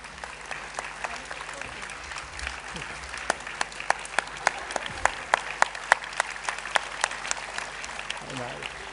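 An audience at a school annual day at an international school in Singapore claps steadily for several seconds, with a dense spatter of individual claps under a speaker's amplified voice.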